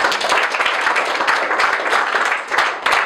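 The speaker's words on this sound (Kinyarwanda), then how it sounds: "Kadukomere Imana amashyi" A church congregation claps loudly in praise of God, steady rapid clapping with slight surges, filling the room without pause.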